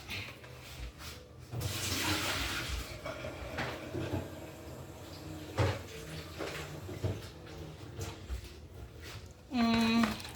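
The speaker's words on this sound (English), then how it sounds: "I have to throw out this water." Parboiling water from goat meat sloshes and splashes out of a pot into a sink, with clatter of the pot and some background noise and speech.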